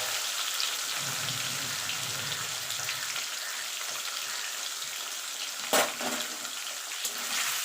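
Shrimp fry in hot oil with black cumin seeds, a continuous close sizzle like rain on a surface, with a sharp clatter of stirring near the end and no speech.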